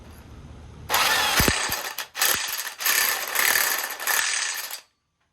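A ratchet tightens the crank pulley bolt on a Volvo engine, giving several loud, close bursts of rapid clicking separated by short pauses, then stopping abruptly.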